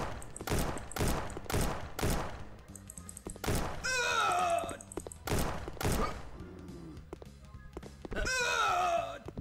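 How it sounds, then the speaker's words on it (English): Rapid bursts of gunfire from the video game Zooicide, heavy repeated shots in quick volleys with sharp synthetic effects in between, loud and close, with someone talking during the game. "Why are you shooting at? Wasting your ammo."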